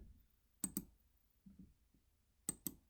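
Computer mouse clicks while picking lines in CAD drafting software: sharp clicks in close pairs, spaced a second or two apart, near and clear with nothing else around them.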